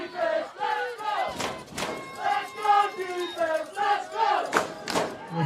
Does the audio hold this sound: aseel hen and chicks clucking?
no